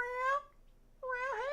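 A cat meows twice, close and clear, with a brief quiet gap between the drawn-out calls and no talking.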